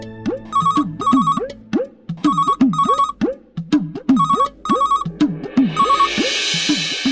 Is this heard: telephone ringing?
yes